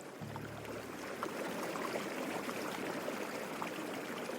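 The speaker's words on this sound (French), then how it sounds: "bercés par le clapotis." Gentle water lapping and trickling where the Rhône and Saône rivers meet at Lyon's Confluence district, a steady soft wash of small splashes with a brief low hum at the start, no voices.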